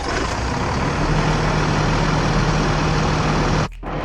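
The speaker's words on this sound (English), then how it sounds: "Alright, so now it's time to start up the coach." A coach bus engine idles close by with a steady, loud diesel rumble and a constant low hum, running alone without voices before it cuts out abruptly near the end.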